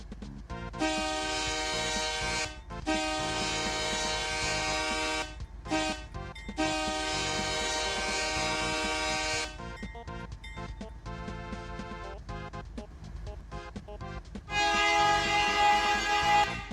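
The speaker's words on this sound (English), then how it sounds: "These units were equipped with a lot of horns, K3HAs, K3Ls," Several locomotive air horns of the K3HA, K3L and P5 types sound in long, loud blasts on leased units in a rail district, with a few short toots between sustained chords and a final louder blast.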